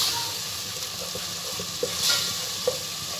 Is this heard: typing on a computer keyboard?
no